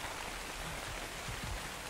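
Steady rain falls across an outdoor scene in the survival video game ARK, a dense, even hiss of drops with a few soft low thumps, continuous and moderately quiet with no voices.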